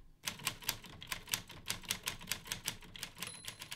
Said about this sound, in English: you go to type on a typewriter now, you're just typing